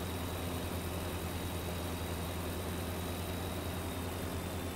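A big rig's diesel engine in American Truck Simulator hauling up a steep hill, heard as a steady low rumbling drone at constant loudness, with no talking.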